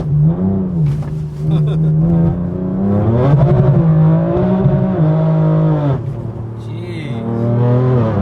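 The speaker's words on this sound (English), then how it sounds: "The exhaust definitely sounds better now." BMW M4 exhaust under way, a loud close engine drone that rises and falls as the car revs and shifts, with throaty harmonics gliding up and down.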